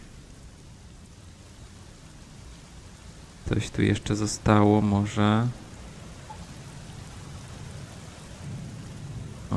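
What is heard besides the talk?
rain and thunder in the video game Black Mirror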